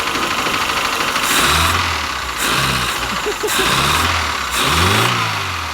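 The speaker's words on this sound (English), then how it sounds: "It's the first thing you gotta do when you start a motor for the first time, you just rev it up." An old car engine, started for the first time in 30 years, revs loudly in repeated surges and drops back between blips, close and rough, with no talking over it.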